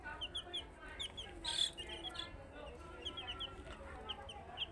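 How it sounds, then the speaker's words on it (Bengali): Brahma chickens in a cage at night give soft, scattered clucks and short calls, fairly faint and irregular, with a quiet background hum. "মুরগিগুলো রাতেরবেলা খাবার খেয়ে এখন ঘুমোচ্ছে, তার জন্য একটু চঞ্চলতা কম মনে হচ্ছে।"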